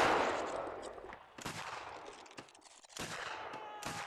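Rifle volleys fired on command in a video game about the Anglo-Zulu War's Rorke's Drift with the 33rd Regiment of Foot, a string of sharp crackling reports with rough, noisy tails, the loudest at the start, then repeated bursts several times across the span.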